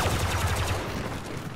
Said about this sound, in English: Oh, I'm getting shot from behind.